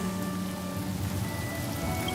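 Rain falls steadily during a Honkai: Star Rail game cutscene, a dense, even patter on surfaces with faint tonal music lines underneath and no pauses.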